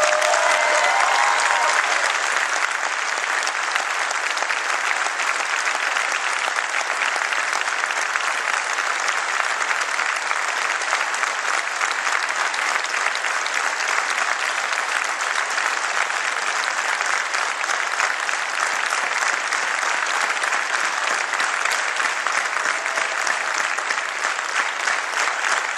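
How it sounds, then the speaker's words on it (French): Sustained, dense applause from a large audience at a French political rally, loud and even throughout with no pause or speech on top. "Merci de les applaudir très chaleureusement."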